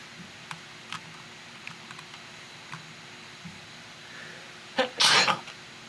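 A single sharp sneeze bursts out near the end over a quiet room, after scattered soft clicks and taps.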